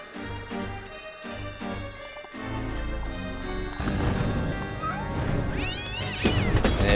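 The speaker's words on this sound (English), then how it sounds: "There's the black kitten." A black kitten meows in the American McGee's Alice video game, a few short cries rising over layered, loud game music and sweeping effects, with no talk.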